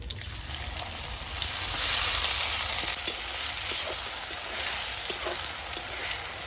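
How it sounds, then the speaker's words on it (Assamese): Chopped onion and green chili fry in hot oil with a loud, steady, close sizzle that swells slightly midway, along with faint stirring scrapes and no voices. "এতিয়া মই পিঁয়াজ আৰু জলকীয়াখিনি বহাই দিম"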